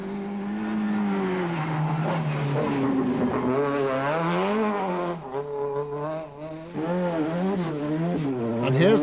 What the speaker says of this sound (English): Brian McGrath's beautifully prepared Starlet goes as quick as it looks.